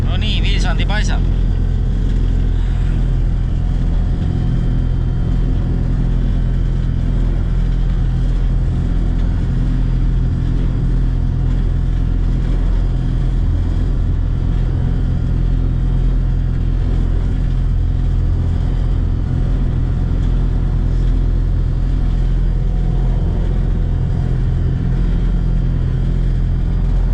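Hovercraft driving over sea ice to Vilsandi island, a loud continuous engine and fan roar with deep rumble throughout, people talking over it.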